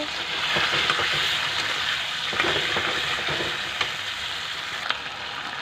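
Tomato and onion frying in a pan for a fish curry with turnip, a steady close sizzle broken by scraping strokes of a spatula stirring the mixture; no speech.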